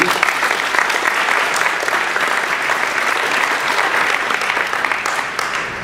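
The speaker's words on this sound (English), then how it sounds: "Well, would you join me in a round of applause for this great panel?" An audience applauds a panel in a steady, dense wash of clapping that stays loud for several seconds and eases only slightly at the end.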